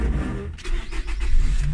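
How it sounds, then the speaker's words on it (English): A car engine starts: a brief starter crank followed by the engine catching and idling, close and moderately loud. "Let's start the engine"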